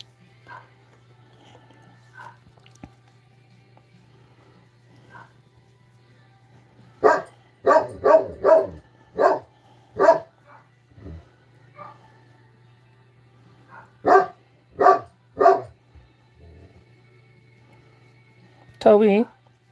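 A dog barks indoors in loud, sharp bursts, first a quick cluster and later a few more spaced barks, over a steady low hum with occasional quiet sounds between.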